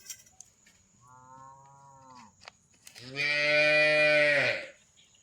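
A calf moos twice nearby, first a softer, shorter call, then a louder, drawn-out bellow.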